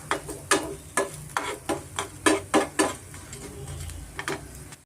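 Cumin and coriander seeds in oil in a pan, heard as a run of sharp metallic clinks and scrapes from a spoon against the pan in a rough rhythm, close up with a faint sizzle underneath and no voices.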